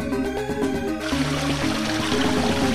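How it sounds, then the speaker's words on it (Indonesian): Waterfall and flowing river water give a steady, dense rush beneath a melodic music bed, with the water noise swelling in after the first second and holding throughout. "sambil mendengar air terjun"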